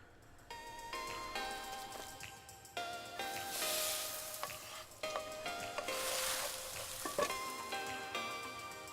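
Food sizzles and frying noises crackle while a Sim cooks in The Sims 4, with a bright, steady hiss that swells in bursts among chiming game tones and music.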